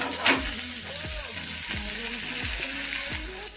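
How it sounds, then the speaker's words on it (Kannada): Two tablespoons of butter sizzling on a hot tawa, a steady crackle under a rhythmic series of scraping strokes about every half second, close and moderately loud. "2 ಟೇಬಲ್ ಸ್ಪೂನ್ ಬಟರ್ ಹಾಕೊಂತ ಇದೀನಿ"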